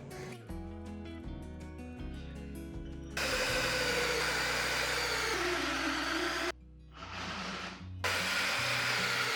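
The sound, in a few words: power drill drilling holes in wood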